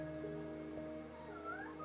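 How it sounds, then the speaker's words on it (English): A house cat meows softly a few times in a quiet indoor room, faint and close, with no talking. "My cat just jumped on my back."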